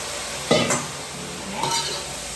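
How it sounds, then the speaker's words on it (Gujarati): Tomato gravy for a Punjabi curry being tempered in a pan, two sharp sizzling bursts with stirring scrapes between them, close and alone without speech. "ગ્રેવીનો અત્યારે જો હું વઘાર કરી રહી છું"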